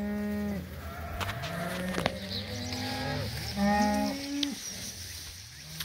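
Several cows from a grazing mob moo in a cocklebur field, one drawn-out call following another at close range, with no voices.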